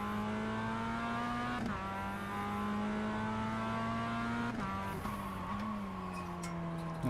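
Mazda MX-5 race car in the iRacing sim at Circuito de Ledenon, its engine droning steadily and loudly throughout, pitch dipping briefly around shifts with faint tire noise, no voices.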